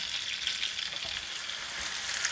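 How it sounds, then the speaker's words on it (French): Endives cut side down sizzle and caramelize in a frying pan, giving a steady, soft, close crackle without pauses. "Et je vais rajouter les endives."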